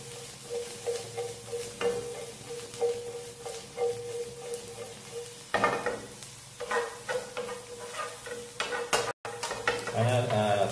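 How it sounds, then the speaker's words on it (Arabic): Fresh mushrooms frying in a pan with browned garlic and onion for an Italian funghi pasta sauce, stirred steadily: a close, busy sizzle broken by repeated spoon scrapes and clinks, with no voices. "ونحركو."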